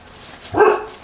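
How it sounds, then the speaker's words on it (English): A single short dog bark, close and fairly loud, rising briefly out of a quiet room. "She's been barking up a storm all day."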